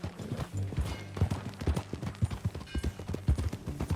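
In the Red Dead Redemption 2 video game, a ridden horse's hooves clip-clop in a steady, even trotting rhythm, each strike close and distinct over a low ambient bed.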